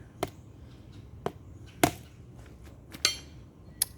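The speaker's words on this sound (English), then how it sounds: "How about I just whack it with a hammer?" Hammer striking the oil filter of a 2003 Porsche 911, five or six sharp metallic whacks at uneven intervals, close and crisp, with a brief ring after the heavier hits and quiet between them.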